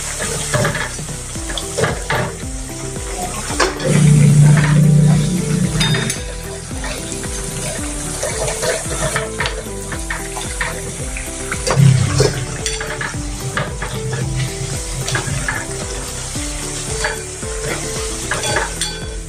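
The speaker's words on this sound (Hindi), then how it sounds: "ऐसे चम्मच से हिलाते हिलाते उसको तलना है।" Diwali namkeen fries in a pan of hot oil with a steady loud sizzle while a spoon repeatedly scrapes and clinks against the pan to stir it, and no one speaks.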